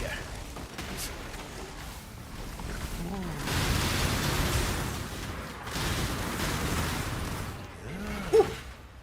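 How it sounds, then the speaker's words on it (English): Video game explosions and gunfire boom and rumble in broad, noisy bursts that swell and fade over several seconds, with a sharper impact near the end and faint talk in the background. "Explosion, explosion, explosion."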